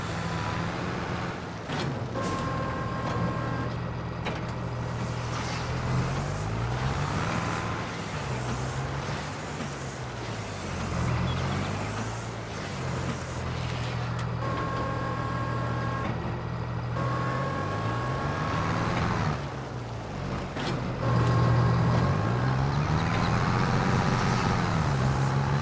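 An AI farmer's tractor or farm vehicle driving past in Farming Simulator 22, a steady engine drone whose pitch sweeps up and down as it moves, growing louder toward the end, continuous and without talk.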